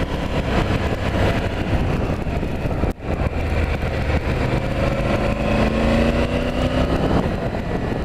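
A motorcycle engine roars loud and continuous while being ridden hard, a sustained throaty drone with rising pitch as it accelerates, briefly dipping once before pulling on.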